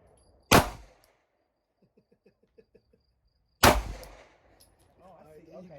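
Two sharp, loud pistol shots from a Glock 43X and an MR920 crack about three seconds apart at close range, each with a short decaying echo, with faint clicks between them and brief talk after the second.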